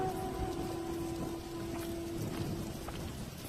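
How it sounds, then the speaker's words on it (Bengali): Rain falls on a cold winter day as a soft, steady patter under a faint low hum, continuous and even for a few seconds with no voices. "তার উপর বৃষ্টি হচ্ছে।"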